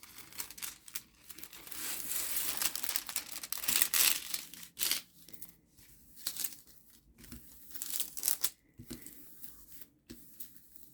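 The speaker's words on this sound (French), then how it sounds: "pour replacer la toile en appuyant bien, surtout où est-ce que ça fait des plis pour chasser l'air." A diamond painting canvas is pressed flat and smoothed down by hand to chase air out of its folds, giving close, intermittent crinkling and rustling of plastic film with short pauses between strokes.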